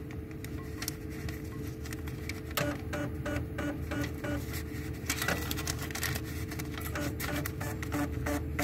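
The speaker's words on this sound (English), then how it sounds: "Printer should grab it and cut it." A Star TUP592 receipt printer feeds paper with a steady whirring motor and rapid ticking pulses, broken by sharp clacks of the cutter, loud and close with no voices.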